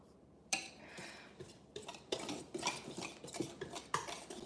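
A spoon stirs dry ingredients for monkey bread in a bowl, giving a quiet run of irregular clinks and scrapes against the sides that grows busier after a short silent start.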